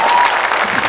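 An audience at a church conference in Qatar claps in a dense, loud burst of applause, steady throughout the short moment.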